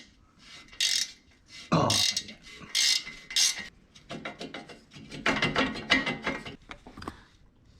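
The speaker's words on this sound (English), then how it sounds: "I'm gonna use my ratcheting wrench because this seems to fit and get the rest of it off." Ratcheting wrench loosening exhaust nuts on an Autozam AZ-1, a series of close, quick clicking ratchet bursts with short pauses, and a person briefly speaking.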